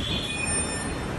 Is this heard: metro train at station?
yes